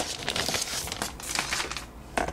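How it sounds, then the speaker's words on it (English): Thin plastic wrapping crinkles and tears as it is peeled off a new Apple wireless keyboard, close and busy, with rustling bursts throughout. "Now I'm going to take off the little plastic wrapping that comes with it."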